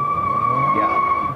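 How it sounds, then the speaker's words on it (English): A 2019 Toyota Camry XLE family sedan spinning its tires at launch with traction control off, a loud, steady high-pitched tire squeal held for over a second, close and alone. "Yeah, it will spin out its tires all the time."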